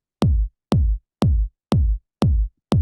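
Six punchy drum machine kick drum hits at an even pace, each a deep thump with a quick pitch drop and short decay.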